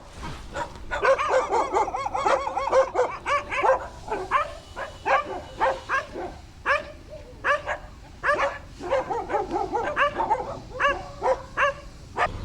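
Several dogs bark repeatedly in excited bursts, mixed with yips and whimpers, fairly close and continuing throughout.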